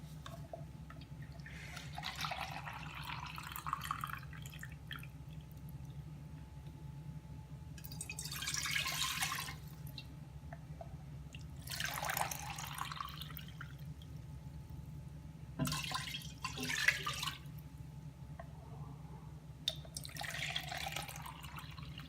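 About 1.5 liters of milk being poured into a pot for shahi tukda, heard as several short, soft splashing pours separated by quiet pauses, faint and fairly close.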